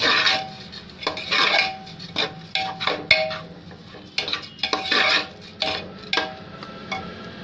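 A spoon stirs rice into a tomato mixture in a cooking pot, sounding as repeated scraping and clinking strokes of metal against the pot in an irregular, steady rhythm. It is close and clear, with no talking.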